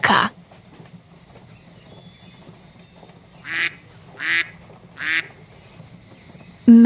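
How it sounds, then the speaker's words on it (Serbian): A duck gives three evenly spaced quacks, close and moderately loud against a quiet background, with no talk. "Patka."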